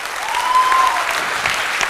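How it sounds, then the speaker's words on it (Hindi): Loud, dense applause from an audience at a business talk, many hands clapping together in a continuous roar across the whole stretch, close and steady. "इस बिजनेस के लिए एक बार जोरदार ताली बजाइए।"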